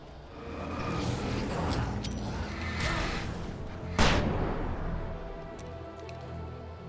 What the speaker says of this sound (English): Using flashbangs to get through these guys faster now.